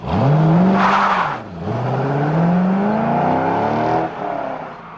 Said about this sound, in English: The mufflers have been specially tuned to deliver a low, sporty growl